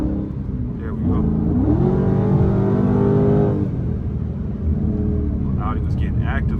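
A straight-piped Dodge Scat Pack accelerates hard on a highway, its loud, close exhaust roar climbing in pitch for a couple of seconds before easing back to a lower drone.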